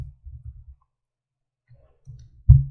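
Short clusters of soft clicks from a computer keyboard as a search is typed, with a long quiet pause in between and one firmer keystroke near the end.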